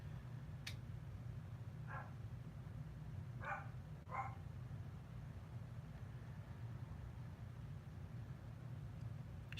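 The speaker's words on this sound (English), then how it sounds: "Oh, my dogs are mad at something. I hear them barking." Dogs bark faintly in the distance, three or four short barks in a loose cluster over a constant low background hum.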